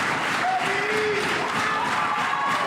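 A theatre audience applauds after a dance performance, a dense, steady wash of many hands clapping with some cheering voices mixed in, loud and sustained throughout.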